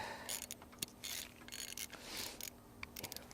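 Tool tightening an oil filter on a Range Rover during a full service, heard as quiet, irregular mechanical clicks and short ratcheting bursts spread across the moment, fairly close, with no speech.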